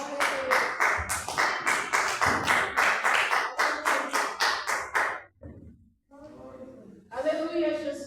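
Church congregation clapping hands in rhythm during a worship service, steady regular claps for about five seconds, then a voice speaking and singing in the room.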